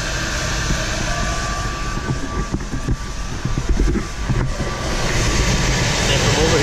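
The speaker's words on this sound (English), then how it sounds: "see the blower running" A cabin blower fan runs inside a Sprinter camper van conversion, a steady broadband airy rush with a low rumble that holds at a constant level throughout, alone without talk.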